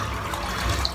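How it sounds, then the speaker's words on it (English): Water from a shaving bowl used for a head shave splashes out steadily into a sink, a brief, close, continuous pouring wash. "I'm just going to empty this water out because it's full of hair"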